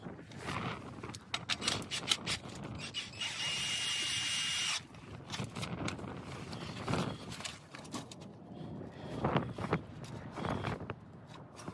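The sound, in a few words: impact driver driving bolts into trailer stabilizing jack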